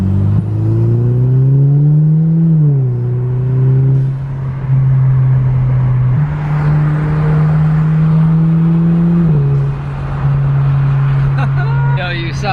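An Audi A4 turbo fitted with an ECS Tuning cold air intake revs up and holds near the rev limiter in several sustained pulls, loud and close, with brief voices around it.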